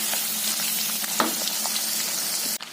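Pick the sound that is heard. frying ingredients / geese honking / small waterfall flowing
frying ingredients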